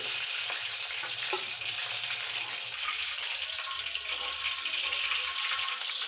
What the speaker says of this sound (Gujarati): ધીમા ગેસની ફ્લેમ ઉપર બધી ડુંગળી તળી લેશું